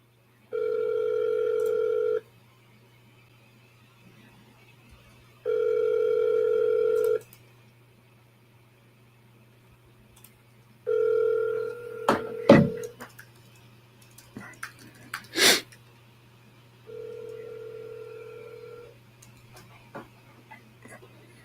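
An outgoing phone call: a ringback tone repeats four times in even bursts about five seconds apart over a low steady hum, broken midway by a few sharp clicks and knocks from handling the phone.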